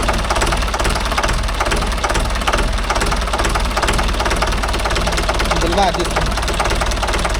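A Mahindra 575 DI tractor's diesel engine idling at slow speed, a close, steady knocking rumble with rattling vibration running throughout while someone talks over it.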